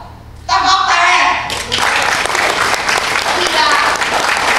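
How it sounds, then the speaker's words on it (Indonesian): A crowd bursts into loud applause after a short spoken line from a speaker at a public address, continuous clapping that keeps going strong with voices mixed in underneath. "Tepuk tangan."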